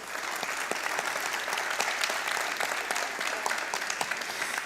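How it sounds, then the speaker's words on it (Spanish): A conference audience applauds to welcome the novelist Mayra Montero, a dense, steady wash of many hands clapping throughout, fairly distant and even in loudness. "yo sé que el aplauso de todos ustedes la va a reconocer"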